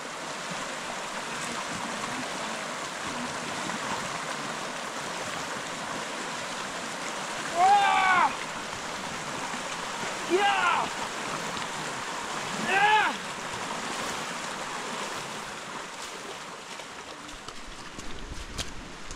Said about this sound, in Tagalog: Medyo maikli lang ito tatawirin na ilog, pero mukhang malakas yung ragasa